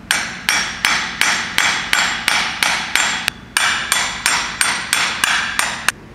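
Steady hammer blows drive an AC compressor clutch bearing into its pulley, about fifteen sharp metallic strikes in an even rhythm, close and loud, with no talking.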